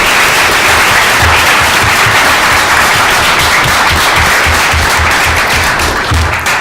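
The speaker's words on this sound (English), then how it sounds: "Let's have a round of applause for the fabulous answers" Audience applause at a student government debate after the candidates' answers: dense, steady clapping from a crowd, loud and continuous throughout, with no talking over it.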